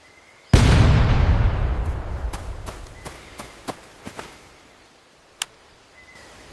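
In a war film, an explosion goes off in front of a defensive position with a single loud, close blast that rumbles off. Several sharp, scattered cracks follow over the next few seconds.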